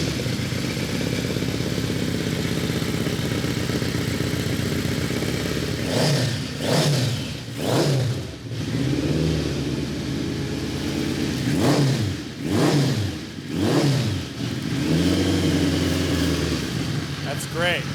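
An MV Agusta motorcycle engine idles steadily and is revved up in several sharp bursts, loud and close, while people talk over it.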